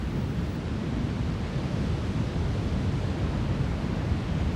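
Broad, steady wash of ocean surf at the southern tip of Africa where the Indian and Atlantic Oceans meet, a continuous roaring rush with wind buffeting, loud and close with no voices.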